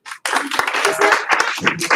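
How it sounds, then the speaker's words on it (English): A group claps together in a short burst, a quick flurry of hand claps that starts abruptly and continues briskly, with voices mixed in. "Give him 1 clap. 2 claps."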